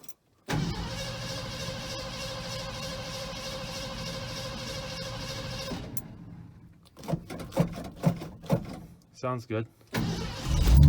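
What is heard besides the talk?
1969 Ford F100 engine starting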